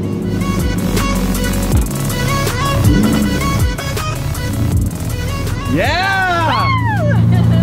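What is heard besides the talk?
Lamborghini V12 engine revving while driving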